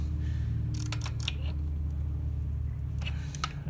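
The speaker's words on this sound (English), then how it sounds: "Now do the final torque." Torque wrench tightening aluminum lug nuts on an ND Mazda Miata, a quick cluster of sharp metallic clicks followed by another pair a moment later, over a constant low hum.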